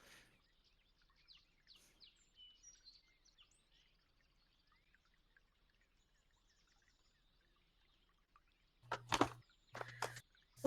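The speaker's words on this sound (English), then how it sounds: "What is your problem, asshole birds?" Small birds chirp faintly and intermittently in a quiet setting, followed near the end by a few louder, sharp calls in quick bursts.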